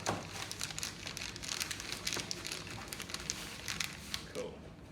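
A length of packing paper is rolled up by hand to fit inside a shipping tube. It gives a continuous close crinkle and rustle with scattered sharper crackles that rise and fall over a few seconds.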